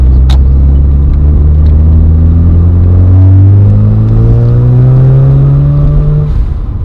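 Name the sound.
Mazda RX-7 Turbo II rotary turbo engine accelerating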